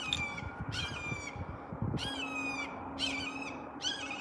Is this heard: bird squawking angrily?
yes